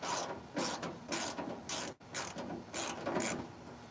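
Ratcheting wrench work on a bolt of a 1965 Chevelle SS during teardown, a series of close, repeated clicking bursts with a brief pause midway.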